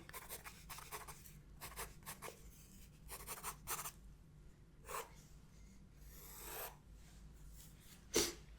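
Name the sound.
pencil sketching on paper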